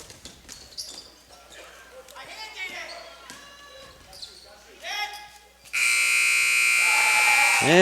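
A loud, sustained buzzer in a boys JV high school basketball game, MSJ vs Otter Valley, sounds after a few seconds of squeaking sneakers, ball bounces and commentator talk, then holds steady and harsh to the end.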